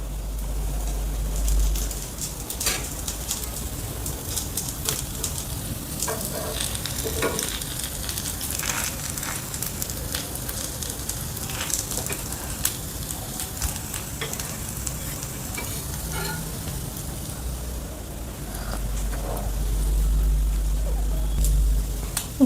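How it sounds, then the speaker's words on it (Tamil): Paneer tikka pieces fry on a low flame in a pan, with a soft, steady sizzle and occasional turning and scraping, moderately close with faint background noise. "இந்த மாதிரி சிம்லேயே நல்லா ஃப்ரை ஆகட்டும்."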